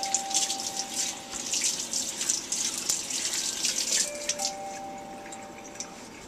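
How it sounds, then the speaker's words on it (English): Tap water runs steadily into a sink while hands are washed after removing gloves in a lab setting, a continuous close splashing hiss with faint clinks, fading slightly toward the end. "and you wash your hands."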